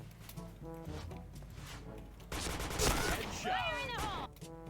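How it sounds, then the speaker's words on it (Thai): Gunfire from a shooting video game, a short burst of shots followed by a swooping, chiming kill sound effect, mixed in with faint music and background game noise. "เวลายิงตายเสร็จมันก็จะขึ้นเสียงนะ"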